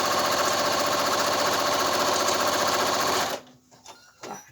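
A sewing machine stitching a zigzag on fabric for a quilt art piece runs in a fast, even rattle for about three seconds, then stops, leaving faint handling clicks.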